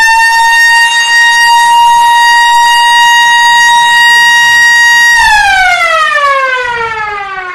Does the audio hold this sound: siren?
yes